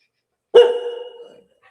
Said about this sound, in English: you're making my dog bark